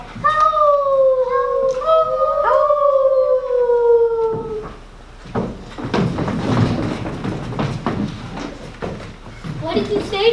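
A voice imitates a coyote howl in rising and falling drawn-out cries over about four seconds, in a Pecos Bill tall-tale story; louder speech and bustle follow.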